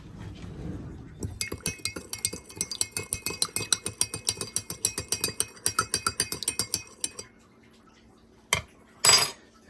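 A utensil clinks rapidly and rhythmically against the side of a bowl while sugar is stirred into a yeast mixture, steady for several seconds, then a few louder knocks and clatters as it stops.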